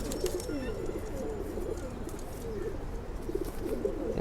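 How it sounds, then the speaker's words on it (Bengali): A pigeon coos steadily in low rolling phrases close by, repeating throughout amid soft background noise. "এই যে কবুতর পাক দেখুন"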